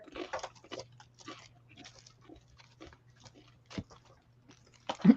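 Crisp, irregular crunching bites close to the microphone, sharp bursts separated by quiet pauses, with a faint low hum underneath.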